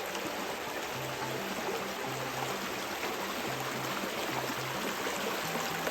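Bowlins Creek rushing steadily after a flood, swollen water pouring past debris caught under a bridge near a washed-away barn; a continuous, fairly loud broadband roar with no pauses and no voices.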